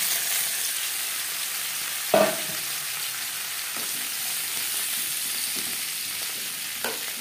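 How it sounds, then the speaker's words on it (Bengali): Onion, garlic and tomato fry in a pan for egg khichuri, giving a steady, even sizzle throughout, broken by a few sharp utensil clinks against the pan. "এবার দিয়ে দেব পেঁয়াজ, রসুন ও টমেটো"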